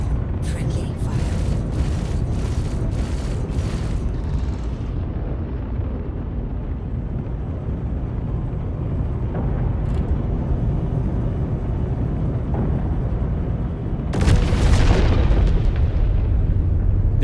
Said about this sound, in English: Dude set himself to self-destruct.